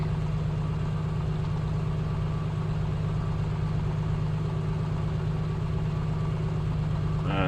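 The simulated A2A Piper Comanche engine idles at 1,000 RPM in Microsoft Flight Simulator 2024, giving a steady, even low drone that stays constant throughout.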